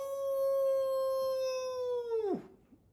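A voice imitates a howling wolf, holding one long, clear, tonal note for over two seconds before it drops and breaks off abruptly, close and alone.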